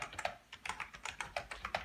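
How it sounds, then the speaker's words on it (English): Keys tapped on a 1986 thermal typewriter, a quick uneven run of about a dozen crisp clicks over two seconds, close and fairly quiet with no voices. "because she's a writer, she likes to write on this typewriter"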